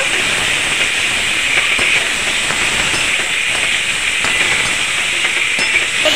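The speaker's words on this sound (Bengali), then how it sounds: "আগে থেকে যে আমি মশলা মাখিয়ে গাটিটাকে ভেজে রেখেছিলাম গাটি কচু, সেগুলোকে দিয়ে একটুখানি কষিয়ে নেব" Pieces of gathi kochu (taro), coated in masala and fried earlier, sauté in a pan of cooked-down spices for a vegetarian dish. The sizzle is loud and constant, with faint ticks and pops scattered through it.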